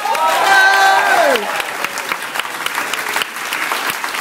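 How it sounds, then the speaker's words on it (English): An audience at an improvised comedy show at the Edinburgh Fringe in 2011 breaks into loud, steady applause and cheering, starting under a voice that calls out at the beginning and carrying on strongly to the end. "Give a round of applause for winner Daniel!"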